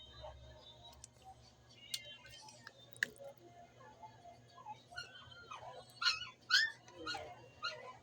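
A puppy yips and whimpers in a series of high, quavering cries that grow louder toward the end, heard faintly in a quiet room over a low steady hum.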